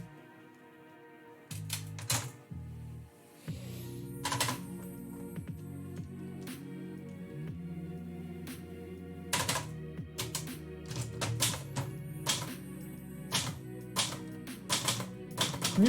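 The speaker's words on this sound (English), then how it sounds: "New typewriter." Keys strike on a typewriter in irregular bursts of sharp clacks, close and clear, with mechanical thumps and rattles between the keystrokes.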